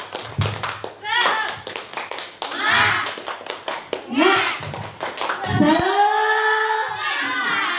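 Group rhythmic clapping chant of an ice-breaking "tepuk semangat" routine led for adults at a school session, with sharp patterned claps interleaved with a leader's voice and shouted responses.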